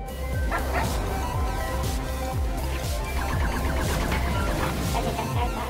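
A space pet dog in the co-op game Lovers in a Dangerous Spacetime barks and yips repeatedly in quick bursts over a loud, steady game soundtrack.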